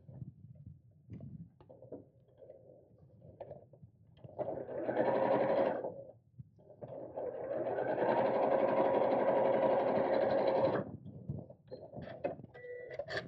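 A domestic sewing machine stitches a seam in fabric while a purse organiser craft bag is being made, running in two close bursts, a short run and then a longer steady one, with quiet handling noise between.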